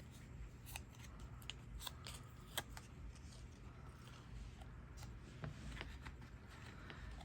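Small scissors trim a paper sticker with a series of soft, irregular snips and crisp little cuts, close up and quiet over a faint steady room hum, with no one talking.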